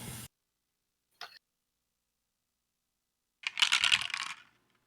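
Dice clatter down a dice tower in a brief rattling burst near the end, after two short knocks and silence, heard alone at close range.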